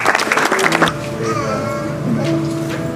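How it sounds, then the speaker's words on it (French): A congregation at a memorial celebration of life bursts into dense, lively applause for nearly a second. It then drops away, leaving a voice and sustained tonal sounds in a reverberant hall. "Can we clap our hands to encourage him?"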